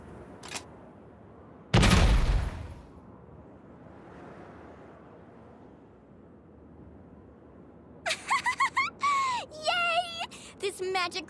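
A magic grenade explodes in God Eater 2 Rage Burst: one sharp, loud blast that quickly dies away into quiet, followed several seconds later by a character's bright, chattering voice.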